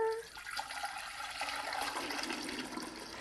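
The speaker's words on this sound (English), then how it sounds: "Just add your water." Water is poured into a homemade zipper vase, making a short, close gurgling splash that rises slightly as the vessel fills.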